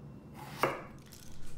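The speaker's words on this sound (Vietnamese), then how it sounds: "mình tiếp tục mình cắt cho hết cái đống cái mớ cà tím này ha." A knife makes a single close, crisp chop through eggplant on a cutting board in a home kitchen, with quiet handling noise around it.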